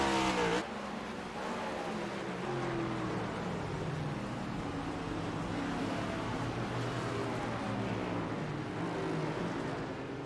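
Race cars in the iRacing video game at Indianapolis brake into lapped traffic, a dense, steady engine drone with shifting pitches running throughout, no talk over it.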